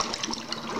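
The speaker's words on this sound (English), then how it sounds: "in the water, it's warming up and it's bubbling out the carbon dioxide gas" Dry ice bubbling in water as it warms, releasing carbon dioxide fog; a steady, close watery fizzing and gurgling throughout, alone with no talk.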